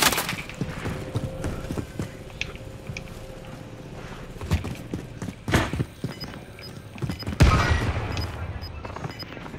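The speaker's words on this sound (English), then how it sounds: "Under fire." Gunfire in the battle royale game Call of Duty Warzone crackles in scattered bursts and single shots, with thumping impacts and louder blasts near the end, under occasional game sounds.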